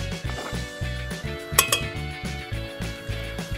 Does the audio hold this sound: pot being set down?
yes